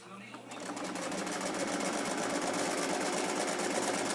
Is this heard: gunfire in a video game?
no